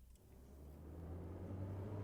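Electric truck driving in Farming Simulator 25, a low steady drive hum that swells gradually as it gets moving, fairly quiet with no talk over it.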